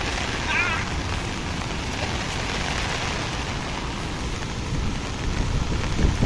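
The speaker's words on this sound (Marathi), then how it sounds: "व्हिडिओमध्ये पावसाने हजेरी लावलेली आहे" Steady rain pours at Lower Dudhana dam, a dense, even hiss that holds at constant loudness throughout with no distinct drops or thunder standing out.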